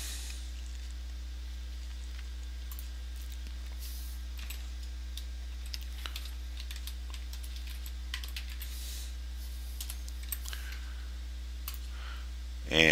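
Computer keyboard typing as artboard names are entered in Illustrator, quiet scattered keystrokes in short bursts over a steady low hum, with talk nearby.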